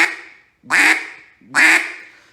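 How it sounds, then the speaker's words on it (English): Three loud, nasal quacks from a duck call, evenly spaced, each one sharp and clear with silence between. "this will get the bird's attention, and it's just single quacks"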